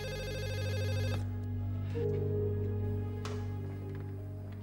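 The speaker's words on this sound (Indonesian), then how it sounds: "Udah malam begini, tumben ada telepon." A telephone ringing late at night, a loud steady electronic ringtone with sustained tones that cuts off partway, leaving a background hum and a few faint clicks.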